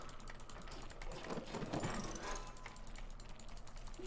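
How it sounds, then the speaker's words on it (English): Rapid, furious computer mouse clicking while playing the god game Godus, a dense run of light clicks over a steady background hum with no talk. "I apologize for the furious clicking that you hear"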